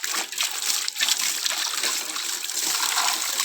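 Running water rinsing pots while washing up, a steady close hiss and splatter with brief breaks where the stream is interrupted.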